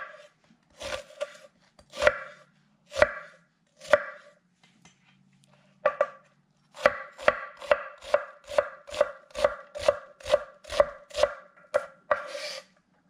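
Knife chopping through food on a cutting board, a few spaced cuts then a quick steady run of crisp, close thuds, moderately quiet with brief pauses and no talking.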